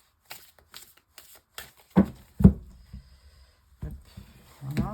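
Tarot cards are handled close by: a few crisp slides and flicks, then several sharp taps and soft slaps as cards are laid down on a surface, with a faint voice briefly audible.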